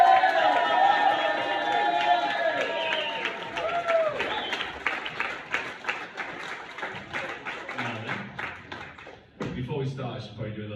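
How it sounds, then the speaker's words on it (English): An audience at a backyard comedy set claps in a loose, scattered burst that thins into a few separate claps. A voice talks over the start. "Come on, start the clapping."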